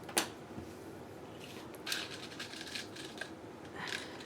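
A few quiet snips and rustles of scissors trimming lace, with soft handling noises between cuts.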